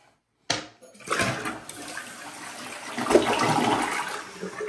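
A Kohler toilet flushes just after a weak-flush repair, starting with a sharp onset, then a loud, steady rush and swirl of water close by, with no one talking.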